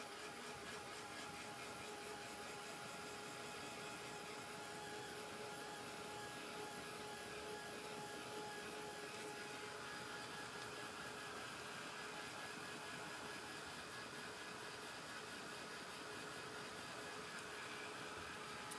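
A heat tool blows steadily while drying paint on an art piece in a studio, a continuous loud whirring fan roar with a faint whine, unbroken for the whole stretch and without speech.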